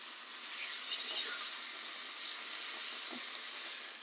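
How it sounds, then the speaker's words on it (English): Steamed eggplant sizzles as it fries in a pan with salt and lemon juice, a soft steady hiss close by with a slight swell early on, no talking. "So let that fry nicely."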